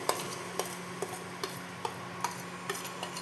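A spice paste with leftover paneer filling fries in a pan, sizzling steadily while a utensil taps and scrapes in a regular rhythm.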